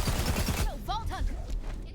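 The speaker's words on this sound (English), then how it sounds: "The voices just told me to shoot. So I started firing." The Butcher shotgun in the video game Borderlands 3 fires in a quick burst of close, loud blasts, then gives way to trailing game sounds and a talking voice.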